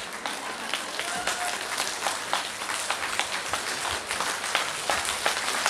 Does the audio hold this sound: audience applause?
yes